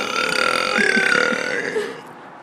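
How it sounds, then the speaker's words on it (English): A girl lets out a long, loud, drawn-out burp lasting about two seconds, close to the listener and standing alone without any talk over it. "Burp, burp, burp."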